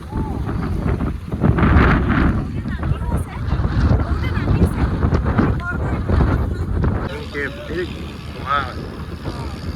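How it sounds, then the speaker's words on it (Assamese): Strong wind buffets the microphone out on open sea near the Phi Phi Islands, Thailand, a heavy, rumbling roar, with voices briefly audible beneath it toward the end. "বতাহটো ধুনীয়া মাৰি আছে"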